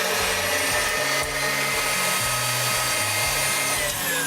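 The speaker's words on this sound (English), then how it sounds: "And now I'm going to beat these egg whites." An electric mixer beats egg whites for a candy box cake at high speed, a loud steady whine with shifting motor pitch as the beaters work through the bowl.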